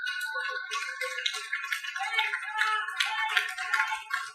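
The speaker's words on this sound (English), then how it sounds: "Why are you clapping?" An audience claps at a church talk on marriage: a dense round of applause with many hands clapping, which swells slightly and stays moderately loud for a few seconds.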